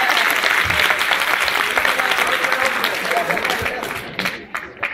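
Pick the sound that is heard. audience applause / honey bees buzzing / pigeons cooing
audience applause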